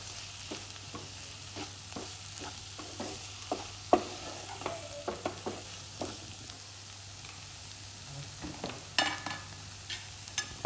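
Onions and spice powders, including coriander powder, stir-fry in a pan for a chicken roll filling: a low, constant sizzle broken by frequent spatula scrapes and knocks at irregular intervals, close-up and without talk.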